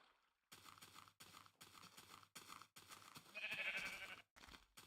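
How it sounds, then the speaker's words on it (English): Sheep in Minecraft Indev give a series of short, evenly spaced bleats, about six in a row, fairly close and clear, with one longer, brighter bleat near the end and no talking over them. "A sheep, which is a large group, well, the largest group that I've seen so far"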